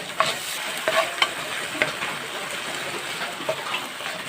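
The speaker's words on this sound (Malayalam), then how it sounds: "സോസ് കൂടെ ചേർത്ത് നന്നായിട്ടൊന്ന് മിക്സ് ചെയ്യുക" A spoon stirs masala mixed with tomato sauce in a pan, a steady scraping and soft sizzle with a few sharper clinks of utensil on metal, close and alone.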